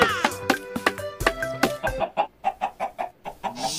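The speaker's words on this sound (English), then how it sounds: "Chickens!" Minecraft chickens cluck in a quick series of short, bouncy clucks, fairly loud and close, with game sounds at the start.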